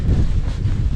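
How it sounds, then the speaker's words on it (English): Steady, blustery wind buffeting the microphone at a farm fishing lake, a continuous low rumbling roar with no pauses, fairly loud throughout. "Bit windy, isn't it?"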